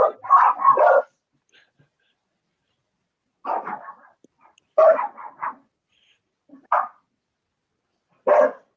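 Dogs bark at people at the door in several bursts of rapid barks separated by silences, moderately close and fairly loud, with no talk over them.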